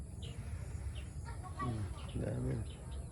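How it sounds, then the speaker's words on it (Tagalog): Chickens in a coop on a farm, a few scattered clucks and short calls rising over outdoor background noise. "Meron dito kulungan ng manok eh."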